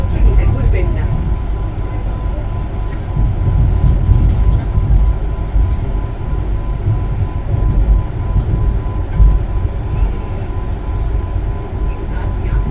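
Patna–Howrah Vande Bharat Express heard from inside the coach while running, a steady low rumble and rail noise throughout, with faint voices in the background.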